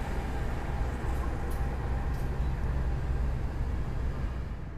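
Turangga passenger train rolling into a track at Bandung station, a continuous broad rumble and hiss of wheels and carriages, loud and close, with no talk over it.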